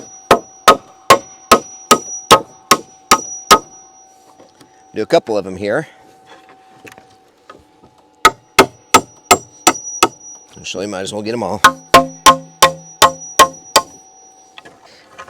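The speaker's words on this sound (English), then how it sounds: "I'm going to pound this straight through." Sharp hammer blows drive nails straight through wood in two quick runs of about eight hits each, with someone speaking briefly between them.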